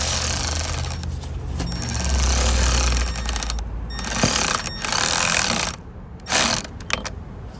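Ratchet driving a T30 bit to tighten a headlight assembly on a 2012-2018 Ford Focus hatchback, heard as close, steady mechanical clicking and whirring with brief pauses and a few louder bursts.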